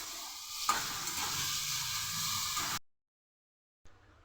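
Paratha frying in a pan, a quiet continuous sizzle with a soft stirring or scraping touch, lasting under three seconds before dropping to silence, then a faint return at the very end.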